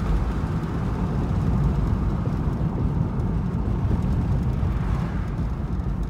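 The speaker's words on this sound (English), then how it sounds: "I'm hitting the brakes right now, slowly." A minivan braking gently from about 53 mph, a steady loud rumble of road and engine noise heard from inside the cabin with no talking.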